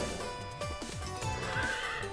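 A horse neighs in the video game Miitopia, a loud whinny rising and falling over a steady bed of game music, with faint hoof clip-clop underneath and no talking.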